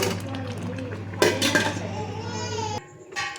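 A lid goes back onto a pot of cooking tomato rice with a clear metallic clank, followed by light rattling over a steady background hum, with faint children's voices nearby.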